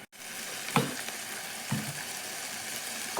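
Vegetables sautéing in a pan give an even, moderate sizzle after a brief silent start, with a few spoon scrapes against the pan, no talking.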